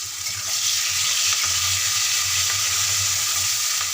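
Chopped tomatoes and green chilli fry in hot oil in a pan for a vegetarian soybean curry, a loud, steady, close sizzle with light stirring throughout and no talking.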